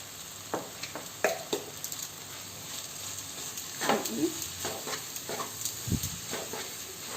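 Matar mushroom masala roasting in a pan over medium heat, a faint, low sizzle broken by scattered scrapes and taps from stirring.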